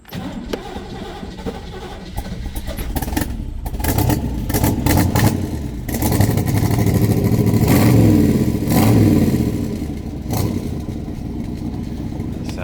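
A 1964 Chevrolet Corvette roadster with its original 327 V8 rumbles loud and close on a cold start, settling into a lumpy idle before several throaty revs swell and fade.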